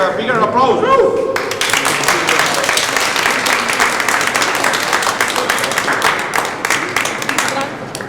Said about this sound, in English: they really deserve a bigger applause